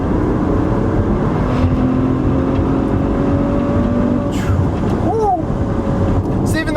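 A 2017 Maserati Levante with a 345-horsepower turbocharged engine accelerates, its steady loud engine drone heard from inside the cabin while a person talks over it.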